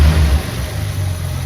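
A Jeep engine just after an idle fix, running close and loud with a strong low rumble that eases slightly partway through, steady mechanical tone with no talk.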